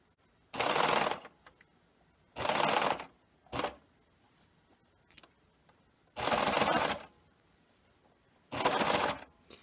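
A serger stitching the seams of a zipper bag runs in five separate bursts of varying length, a close, even mechanical whir that starts and stops with quiet gaps between.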